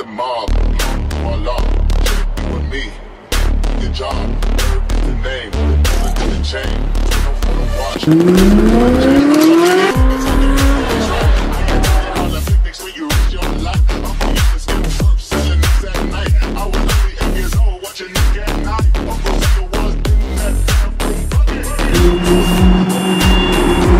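Ferrari 458 Italia sports car driving hard, its loud engine roaring and revving continuously with tires squealing around the middle of the run, close and dominant throughout.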